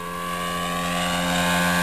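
A steady engine drone from an ESM Stuka JU-87 radio-controlled model plane with an Airex wing, loud and close and slowly growing louder as it passes.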